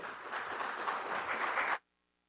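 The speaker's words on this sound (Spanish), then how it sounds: "Le recibimos con un fuerte aplauso." An audience at a seminar applauds to welcome the speaker, a steady even clapping with no voices that stops abruptly into near silence.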